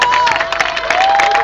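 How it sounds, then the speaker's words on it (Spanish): An audience applauds at a karate kata exhibition, a brief burst of dense clapping and cheering from a crowd with a sustained whistle-like tone over it. "Fuerte aplauso para Miguel Perdomo."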